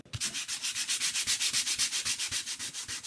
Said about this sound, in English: So you're hitting those edges and you're sanding them off, right?